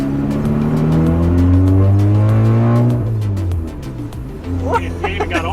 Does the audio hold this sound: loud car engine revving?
yes